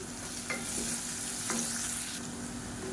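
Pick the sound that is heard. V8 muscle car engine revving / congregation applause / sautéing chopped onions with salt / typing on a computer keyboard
sautéing chopped onions with salt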